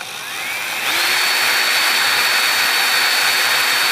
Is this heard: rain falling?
no